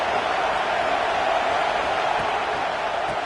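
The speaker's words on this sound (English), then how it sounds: "And here comes the noise. This crowd is trying to inspire this defense to make a big red zone stop." A football stadium crowd roars steadily through a game, a dense unbroken wash of cheering and noise that stays loud and even throughout with no clear individual voices.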